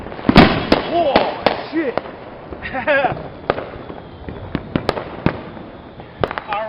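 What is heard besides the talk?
firework exploding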